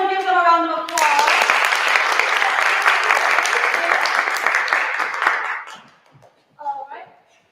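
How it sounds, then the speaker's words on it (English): Audience applause at a senior composition recital, a dense burst of clapping that swells in loud and holds steady for several seconds before fading out, with a brief voice heard afterward. "Everyone give them a round of applause."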